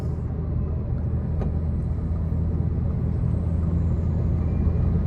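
A truck rumbles past on a long road drive to Bandung, heard from inside a Wuling Air EV electric car. The low, steady road rumble and engine drone continue throughout with no talking.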